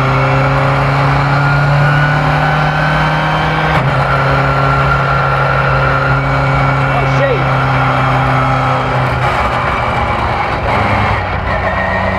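A classic rear-wheel-drive Vauxhall Chevette resto mod engine drones loud and close, stepping down in pitch as the driver short shifts through gears, with a voice talking over it.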